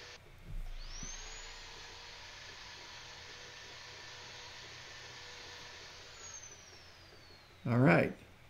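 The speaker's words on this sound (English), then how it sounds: "I'll just do my finish sanding on the exterior and the interior." Finish sanding on a wooden salad bowl, inside and out, up to 320 grit: a high, steady motorized whine spins up, holds for several seconds, then winds down, with a short burst of louder noise near the end.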